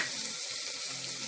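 Green chilli, broad beans, carrot and potato sautéing in a pan for millet khichadi, a brief, even hiss of sizzling oil heard close up without any talk.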